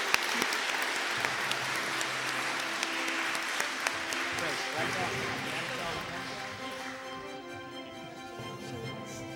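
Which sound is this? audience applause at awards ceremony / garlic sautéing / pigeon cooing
audience applause at awards ceremony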